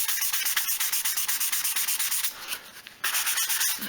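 Sandpaper rubs over the back of a Les Paul guitar body in steady, rapid hand strokes, close and scratchy, with one brief change in stroke partway through.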